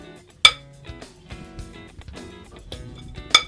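Fruit bar mixture being spooned into a baking pan, with sharp metallic clinks of a spoon against the pan between softer scraping taps.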